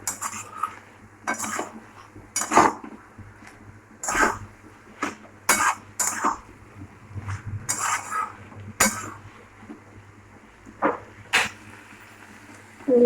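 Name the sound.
stirring boiled potato vegetable curry in a pot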